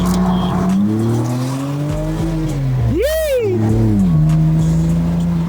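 A BMW E90 with coilovers fitted accelerates hard, its engine note climbing steadily, dropping sharply at a gear change, then surging again in a quick rev sweep before settling into a loud, sustained drone, with no voices.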